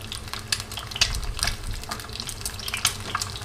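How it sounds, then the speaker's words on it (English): An egg fries in hot oil, crackling and spitting with irregular sharp pops over a soft, steady sizzle, close and fairly quiet. "So fry the egg first"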